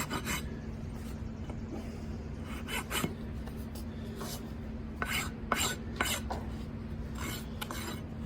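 A rasp working a horse's hoof during a barefoot trim, repeated short grating strokes in an irregular rhythm, close and fairly loud over a low steady hum.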